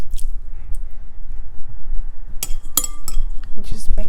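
Attieke stirred with water in a bowl, giving short clinks and squishy scraping sounds that start after a quiet stretch and come in uneven bursts up close.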